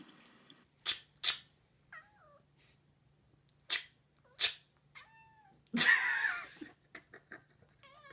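A house cat meows close by, several short meows and squeaky chirps spaced across a quiet room, ending with a louder drawn-out yowl followed by a few small trills.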